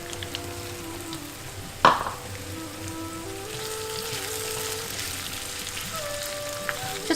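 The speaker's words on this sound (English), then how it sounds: "Just mix all the ingredients up," A samosa filling with fresh coriander and green peas is stirred in a hot pan. Soft frying sizzle runs throughout, and a single sharp clink of the spoon comes early on. No one speaks.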